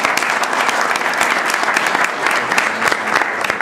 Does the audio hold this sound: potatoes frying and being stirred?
no